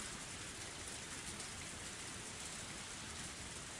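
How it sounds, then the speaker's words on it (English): Steady rain falling in a forest, rendered as a video game sound effect: a soft, even hiss of drops with no breaks or distinct splashes, faint and continuous. "We're in the middle of a forest, and on top of that, it's raining."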